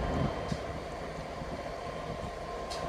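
A five-carriage passenger train bound for Skegness, at Nottingham, gives a steady, loud rolling rumble with a hiss of wheel and track noise that runs unbroken and close throughout.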